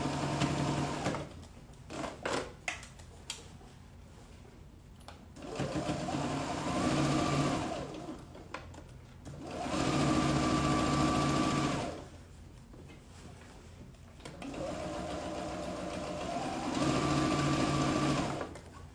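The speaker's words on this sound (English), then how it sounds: "I just stitch really, really close to the edge here." Sewing machine topstitching close to the edge of elastic shorts, running in three loud sustained bursts separated by short pauses, close up, with a few brief handling clicks between runs.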